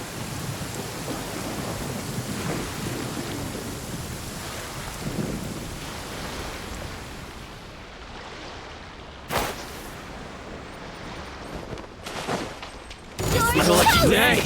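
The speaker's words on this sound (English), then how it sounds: "I don't like the rain." Rain and thunder in the video game Genshin Impact: a steady hiss of rainfall with low rolling thunder throughout, sharp cracks near the end and a loud close burst in the last seconds.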